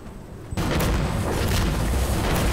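A BM-21 rocket barrage strikes in a tactical shooter, beginning with a sharp boom after brief quiet, then a dense, continuous roar of overlapping explosions and rumbling impacts.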